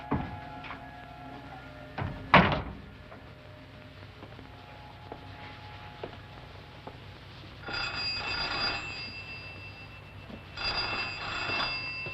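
A telephone rings in two long electronic bursts after some brief clicks and handling noises, heard fairly close in a quiet room.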